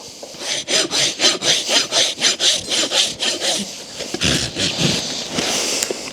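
A farrier trims a horse's hoof with a steady back-and-forth rasping stroke repeated about a dozen times, close and loud, then breaks into looser, irregular strokes, with no talking.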